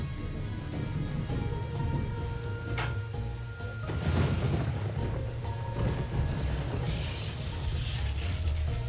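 Thunderstorm scene in the Nancy Drew: Legend of the Crystal Skull game: steady heavy rain hissing on surfaces with low rolling thunder beneath, continuous and fairly loud, no voices.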